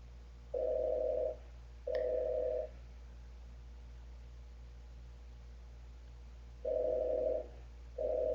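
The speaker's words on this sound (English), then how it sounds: "We hear somebody's phone ringing" A telephone rings in the background, faint electronic tones repeating in short pairs with long pauses between them, over a steady hum and hiss.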